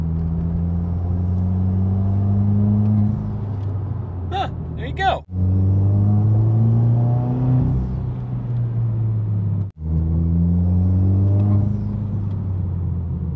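Subaru WRX with FA20 turbo engine and a new turbo inlet, revving from inside the cabin with rising and falling engine drone, a faint spooling whoosh and brief drops at gear shifts.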